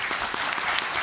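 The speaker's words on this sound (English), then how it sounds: "Give yourselves a round of applause for that." Steady applause from a crowd at a mayoral debate, dense clapping filling the whole moment at an even level with no voices.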